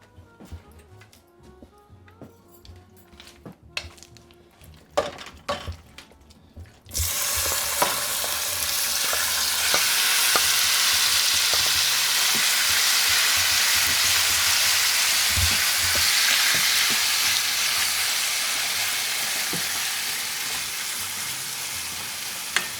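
Chicken thighs hit avocado oil in a skillet with a sudden loud sizzle that then holds as a steady, dense frying hiss, after a few seconds of quieter clinks and handling beforehand.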